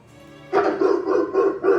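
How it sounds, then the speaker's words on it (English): A dog barks in a quick run of loud, close barks that start suddenly after a quiet moment and continue steadily to the end. "And there goes the dog."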